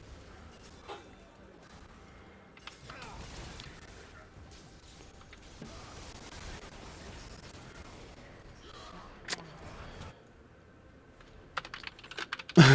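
Computer keyboard typing during a League of Legends game, a run of quick clicky keystrokes at moderate level mixed with game sound effects and occasional bursts, with a louder clatter near the end.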